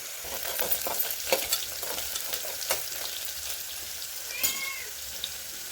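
Whole spices fry in hot oil for a quick biryani, giving a loud, close, steady hiss with crackles and occasional stirring scrapes throughout. A brief higher tonal sound appears near the end.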